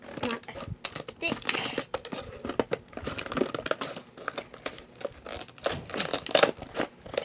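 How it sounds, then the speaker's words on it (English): Scissors snipping and crinkling through thick plastic packaging during an unboxing, with sharp irregular cuts and crackles close by throughout. "got me some scissors and I'm gonna see what it is. I'm gonna cut this in. It's not as thick."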